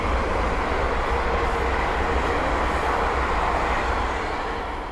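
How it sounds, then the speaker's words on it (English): Two London Northwestern Railway Class 350 electric units coupled together run past at speed near Linslade, a steady loud broadband rumble and wheel rush that holds throughout and eases slightly at the end, with no voices. "the next train to pass by is a pair of London or Western Railway Class 350 from London Euston to, I believe, Crewe."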